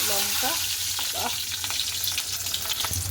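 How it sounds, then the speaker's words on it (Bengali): Dried red chillies dropped into hot oil give a close, busy sizzle with crackling pops and a few stirring clinks, steady across the few seconds, with no speech. "তো এই তেলে দিয়ে দেবো দুটো চিড়ে লাখা"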